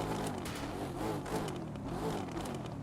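A Jaguar F-Type SVR Coupe in The Crew 2 runs with a steady, fairly quiet engine drone that swells gently as it revs, with a faint whir on top and no speech.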